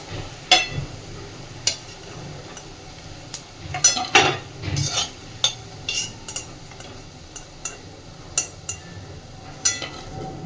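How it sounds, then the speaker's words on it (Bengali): Prawn fritters fry in a pan with a low sizzle, punctuated by sharp clinks and scrapes of a utensil against the pan at irregular intervals, close by and alone without speech. "বাকি সবকটা বড়াও আমি একইভাবে ভেজে নেব।"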